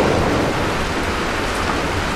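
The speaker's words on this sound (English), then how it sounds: "Really bad rain sound." Stock rain-and-thunder effect from the Neverending Nightmares game: a loud, constant wash of heavy rain with a low rolling rumble of thunder beneath it, steady and unbroken, with no voices.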